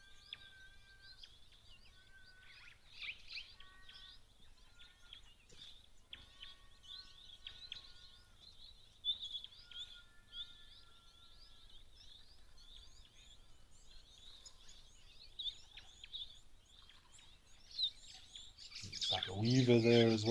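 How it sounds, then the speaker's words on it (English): A grey-headed sparrow calls at a waterhole, repeated short chirps and twitters scattered over a quiet background with other birds, fairly near, ending in a louder burst of noise. "I'm just going to stick with grey-headed sparrow of either northern or southern"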